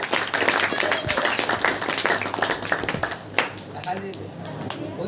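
A church congregation at a Hindi-language Saturday prayer meeting claps hands in praise, a dense, steady patter of many hands filling the room with voices and talk mixed in throughout.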